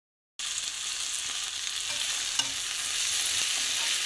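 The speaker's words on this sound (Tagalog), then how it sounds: "Ginisa na okra with sambal chili." Okra sautés with sambal chili in a pan, a steady, fairly loud sizzle that holds alone for about four seconds after a brief silence, with a faint stir scrape near the middle.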